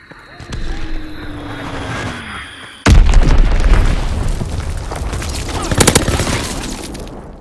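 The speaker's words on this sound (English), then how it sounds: "Dropping Fritz X-bomb!" A Fritz X bomb explodes in the Call of Duty WWII game: a descending whistle precedes a sudden loud boom, followed by a rumbling, crackling aftermath with scattered bursts and gunfire, close and heavy.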